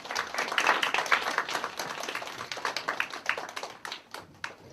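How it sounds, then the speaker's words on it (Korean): Scattered clapping from a university group at a church communion service as a pastor comes forward, moderately quiet and uneven, thinning out toward the end. "여러분 박수로 환영해 주시기 바랍니다"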